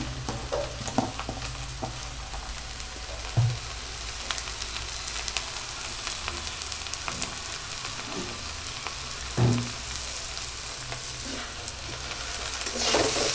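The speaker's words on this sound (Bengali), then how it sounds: "আস্তে আস্তে করে আমি একটু ফ্রাই করে নিই, ভেজে নিই আর কি।" Turmeric and spices fry in oil in a pan for a soybean and egg curry, a steady close sizzle with a few scraping stirs, no voices.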